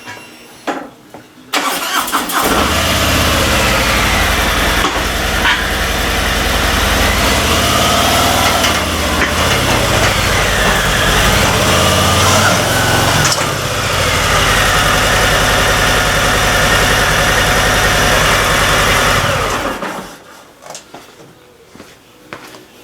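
A motorcycle engine starts and runs steadily for about twenty seconds, loud and close with a buzzing idle, then cuts off and falls silent.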